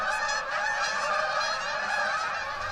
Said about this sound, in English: That's a lot of geese.